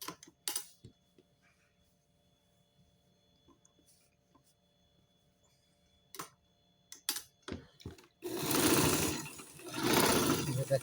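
Sewing machine stitching in quick rattling bursts, with scattered mechanical ticks before a louder sustained run near the end.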